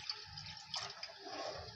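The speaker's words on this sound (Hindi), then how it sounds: "अब हम इसमें 1/2 कप पानी और ऐड करेंगे।" Half a cup of water being poured into sugar syrup while making halwa gives a faint, steady liquid trickle and splash that runs continuously for under two seconds, with no one speaking.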